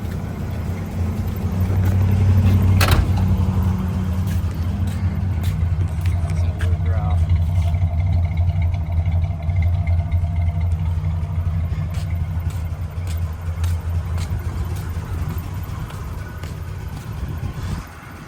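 An old cruiser car engine runs steadily outdoors on a farm, a low continuous rumble with some clatter, loud and close, with people talking over it.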